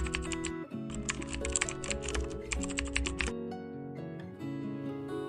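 Steady typing on a computer keyboard while a document is named in Google Docs, with quick close key clatter running under background music and a brief pause before the keystrokes resume.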